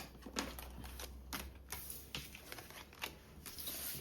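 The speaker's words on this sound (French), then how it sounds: "On remet les cartes." Tarot cards being gathered and shuffled by hand, giving a series of quiet, crisp card clicks and soft riffles spread across a few seconds in a still room.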